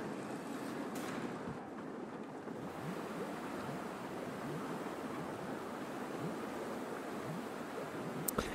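Steady, rolling wash of water drawing back in Tomb Raider, a broad continuous surf-like rush with no voices and a couple of faint ticks near the end.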